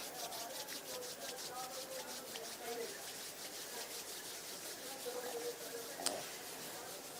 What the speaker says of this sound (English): rub the palms of the hands against each other